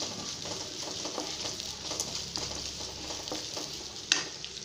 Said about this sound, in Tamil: நல்லா வதக்கட்டும்.